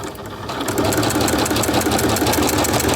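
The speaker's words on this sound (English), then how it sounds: "You see how the walking foot moves up and down? That's so that it doesn't stretch out your fabric." A sewing machine fitted with a walking foot stitches knit fabric, its rapid motor hum and rhythmic needle clatter running loud and continuous throughout.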